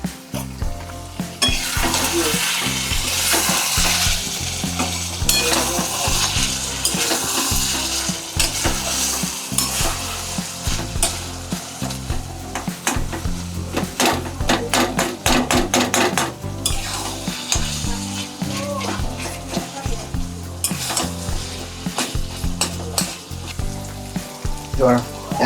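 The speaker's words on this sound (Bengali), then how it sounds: "টমেটোটা যতক্ষণ না গলবে ততক্ষণ কষতেই থাকতে হবে" Minced mutton and tomato for khasir keema sizzle loudly in a pan while a spatula scrapes and stirs in repeated rhythmic strokes, with occasional clinks of metal on the pan.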